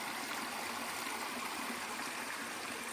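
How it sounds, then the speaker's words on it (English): A late-winter creek runs through redwood and spruce forest in the Santa Cruz Mountains, a steady, loud, unbroken rush of flowing water with no pauses or voices. "late winter creek still running"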